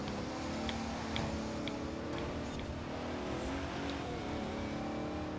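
A Bentley's engine in the racing game Forza Horizon 4 drones steadily and loudly at sustained revs on a rally course, a continuous even roar with faint tonal shifts and no talking.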